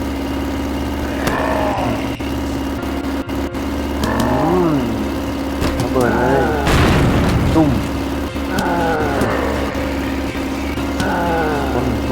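Booming explosions and sliding engine tones from the zombie car game Earn To Die fill the clip, one big blast in the middle, with a steady low rumble throughout.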